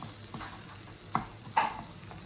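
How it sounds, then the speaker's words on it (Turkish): Onions with tomato paste and dried mint sautéing in a pan for ezogelin soup: a soft sizzle underneath, with a couple of distinct spoon scrapes and clinks as the mixture is stirred, no talk. "Nane ile de güzelce kavurmaya devam ediyorum."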